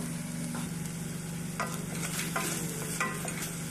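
Tuna cooking in a pan gives a steady, moderate sizzle, with a few soft stirring scrapes and clinks over a constant low hum. No one speaks.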